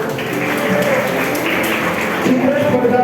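Clapping from an audience at a school's 15 August Independence Day programme in Jamnagar, a steady wash of applause lasting the whole moment, with a voice talking over it.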